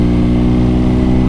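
Close, loud, steady running of a BMW R NineT motorcycle engine, a deep even throb with strong low harmonics and no speech.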